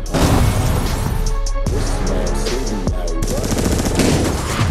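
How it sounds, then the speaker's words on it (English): Heavy automatic gunfire from the Den of Thieves video game trailer, with dense loud bursts and booming shots running continuously alongside a music score and brief shouted voices. "Dispatch, we are under heavy fire!"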